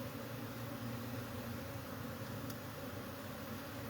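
Agitated honey bees swarm around a hive built inside a cable box, giving a dense, continuous buzzing drone close to the microphone that holds steady and loud throughout with no speech.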